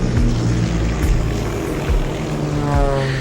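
Recovery helicopter hovering low over the sea, a loud continuous rotor and engine drone with a steady throbbing beat, close and unbroken, with no voices.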